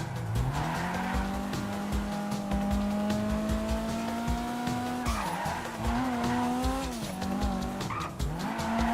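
Tires of a Kuruma car in GTA Online squeal in a long continuous skid while cornering, the pitch wavering as the slide shifts, over a steady engine drone, loud and up close with no speech.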